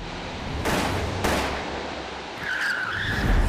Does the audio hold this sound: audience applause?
no